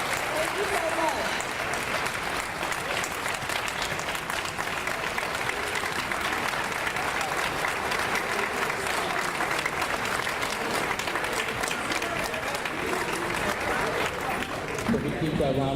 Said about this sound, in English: So we keep that round of applause going for our new chancellor.